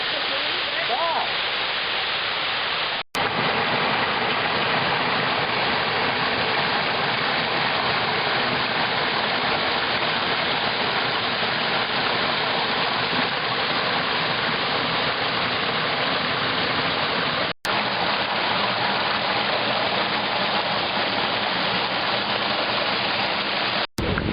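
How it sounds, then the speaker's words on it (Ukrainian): A waterfall near Sukil village in Ukraine roars steadily and loudly throughout, a dense, unbroken rush of falling water close by. "Ми сьогодні побачили в селі Сукіль чотири дуже гарних водоспади."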